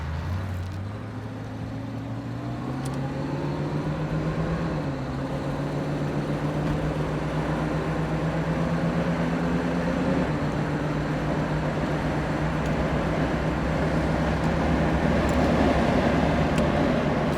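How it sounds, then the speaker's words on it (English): Engine drone of a 1970 Ford Mustang convertible rising in pitch as it accelerates, dropping as it shifts gears, then climbing again, heard from inside. "Nice smooth shifts out of the transmission."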